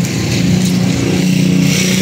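Motorcycle engine running steadily and loudly close by for the whole stretch, a continuous droning hum with a faint revving texture and no talk over it.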